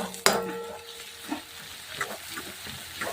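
Spices stirred into frying masala, with a sharp clank of a spoon at the start followed by a soft, steady sizzle and occasional scraping stirs, close and fairly quiet.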